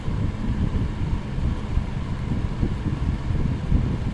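A restored vintage Country Aire C-122 electric fan, with rotted cord and motor leads, runs on low speed as a steady, fairly loud whooshing rumble of moving air close by, with no talk.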